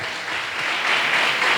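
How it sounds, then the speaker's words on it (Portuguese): A church congregation bursts into applause during an evening service, a dense wash of clapping that swells slightly louder over a short burst, close and lively with no speech. "Você pode aplaudir o Senhor nesta noite?"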